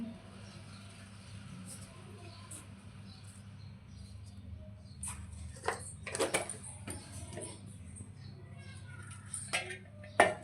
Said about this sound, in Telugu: పప్పుని ఇలా స్మాష్ చేసుకోవాలి